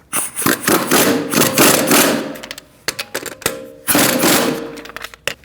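Lug nuts on a 2008-2014 Mercedes-Benz C300 wheel are run down with a 17mm socket in a star pattern. Loud, close bursts of rapid mechanical rattling and whirring come in several runs separated by short pauses.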